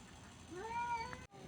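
A cat meows once, a clear drawn-out call at moderate distance over faint background noise during an outdoor trip to buy and grill milkfish.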